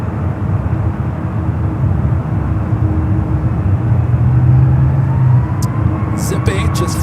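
A Boeing 777 bound for Paris rolls for takeoff at San Francisco airport, a loud broad jet roar and rumble heard from a distance that swells midway, with a few clicks near the end.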